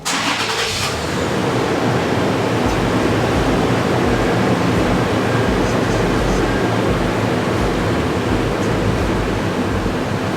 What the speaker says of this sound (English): Then we started the vehicle for 15 seconds.